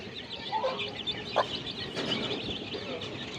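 Chickens cluck on a small farm with just two hens, scattered calls from a short distance over steady outdoor background noise.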